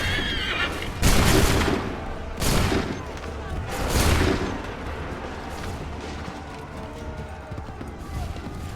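Soldiers fire volleys of muskets in Assassin's Creed 3, with three loud broad blasts in the first few seconds followed by rumbling battlefield noise and faint shouting.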